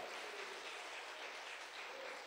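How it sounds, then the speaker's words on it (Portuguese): A church congregation claps during an evening worship service, dense sustained applause that fills the whole moment at a moderate distance, with no talking over it. "Você pode aplaudir o Senhor aqui nesta noite"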